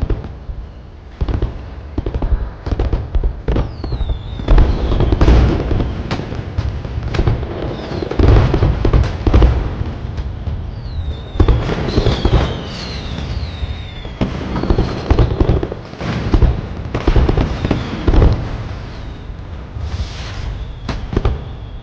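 Fireworks burst repeatedly during a night-time scene in a Chinese fantasy drama, with a string of loud booms and crackles and a few whistling rockets rising between the explosions.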